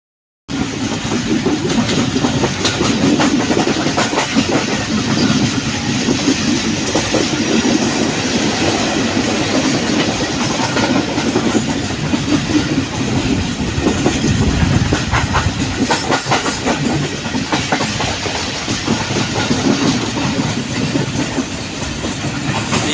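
A train at Bhiria Road railway station in Pakistan rumbles loudly and continuously nearby, wheels clattering in a steady clickety-clack rhythm with occasional hissing and squeal over the roar.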